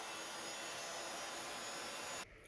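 A heat gun blows while heat embossing gold powder onto a Christmas craft piece, a steady, faint airy whir that runs continuously and then cuts off abruptly near the end.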